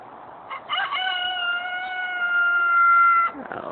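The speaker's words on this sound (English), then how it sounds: "He thinks he can crow all the time." A young rooster crows once, close and clear, in a single drawn-out, slightly strained call that rises and holds for about two and a half seconds against a quiet background.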